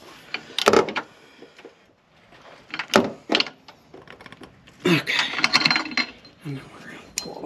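An O2 sensor wrench tightens a sensor on a 2017 VW Alltrack, giving scattered metallic clicks and ratcheting bursts separated by short quiet gaps, close to the microphone.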